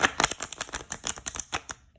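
Tarot cards being shuffled by hand, close up, in a quick run of crisp riffling and slapping bursts at an irregular rhythm that fades out near the end, with no talking.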